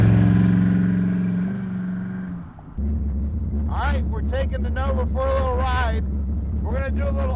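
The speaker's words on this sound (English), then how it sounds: "All right, we're taking the Nova for a little ride." A 1966 Chevrolet Nova pro street car, its engine loud and rumbling near at hand, first revving, then settling into a steady low drone while someone talks over it.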